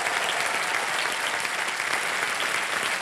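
Loud, dense studio audience applause on a television quiz show set, continuous and evenly sustained with no talk over it.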